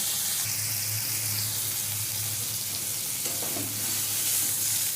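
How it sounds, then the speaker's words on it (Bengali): Cauliflower frying in oil in a home kitchen pan gives a steady, loud sizzle that runs the whole time, with a faint low hum beneath it and no voices. "ফুলকপিটা লাল করে ভেজে নেব"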